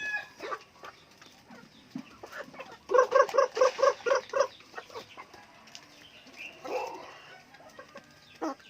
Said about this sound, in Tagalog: Yan ang mga manok ko dito.